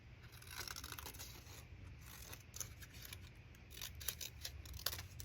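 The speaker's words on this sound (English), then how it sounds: "I'm closing my scissors while I follow the curvy lines" Scissors cut through folded paper along curvy lines, giving soft close snips and crisp scraping crunches that grow more distinct toward the end, without speech.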